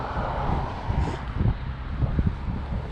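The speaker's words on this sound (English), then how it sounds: "It's a bit windy." Wind gusting across an outdoor microphone, a steady low rumbling buffet with brief louder thumps, no talking.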